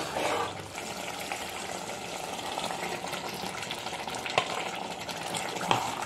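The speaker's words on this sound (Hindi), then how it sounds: "अब हम इसमें दाल डाल देंगे" Dal goes into a pan of spices fried in oil and sizzles loudly and steadily, with a wet, bubbling texture and a couple of faint clicks from the utensil.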